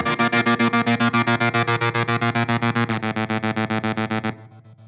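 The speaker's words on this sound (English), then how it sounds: "I have multiple effects pedals on" Electric guitar played through multiple effects pedals, strummed in a rapid, steady rhythm through distortion and chorus effects, loud and driving, then stopping abruptly with a short ringing tail.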